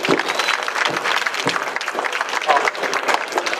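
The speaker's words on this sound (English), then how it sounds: "let's give a round of applause for Yong Hyun" Audience applause at a SIGGRAPH 2013 ZBrush session welcoming a Blizzard artist, lively uneven clapping with distinct hand claps standing out over the crowd's steady patter.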